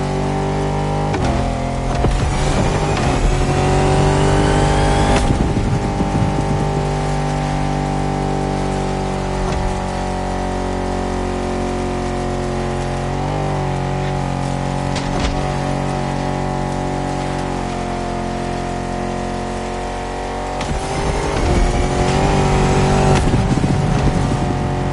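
A Jeep Rubicon on huge 33-inch tyres drives off-road in The Crew Motorfest, its engine droning steadily and loudly with gear shifts and surging revs throughout.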